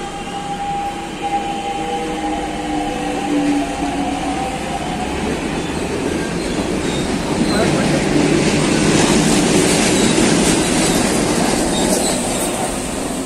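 SuperVia series 3000 commuter train departing a station, a loud rumbling roll with clickety-clack of wheels building as it pulls away, a steady close wash of rail noise throughout.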